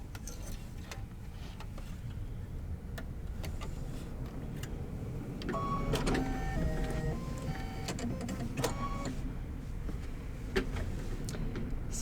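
An embroidery sewing machine stitches out a green section of a quilt-along design, giving a continuous mechanical hum with rapid rhythmic needle ticking. The sound grows slightly louder partway through, with occasional clicks, close by and with no talking.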